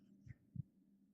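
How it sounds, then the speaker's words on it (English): Two deep, soft heartbeat thumps from an indie video game, a muffled lub-dub pair close together over a quiet low hum. "Ooh, the heartbeats."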